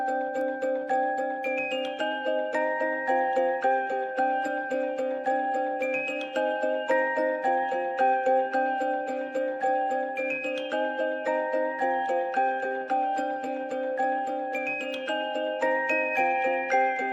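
A simple repeating music box melody with a counter line on top, bright plucked tines chiming steadily and evenly at close range, with no voices.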